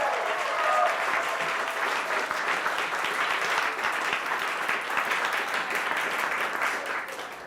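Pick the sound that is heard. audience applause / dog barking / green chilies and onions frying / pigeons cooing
audience applause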